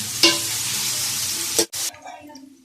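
Onions sizzle loudly in a hot pan as they fry toward golden, with a stir clattering partway through, then the hiss drops to a quieter simmer for the last moments.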